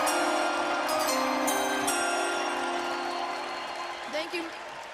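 A large indoor crowd at an NFL draft cheers and claps for Kyle, a Make-A-Wish child. The applause holds steady as a dense wash of noise under a loud room. It fades slightly toward the end, with a few brief shouts rising out of it.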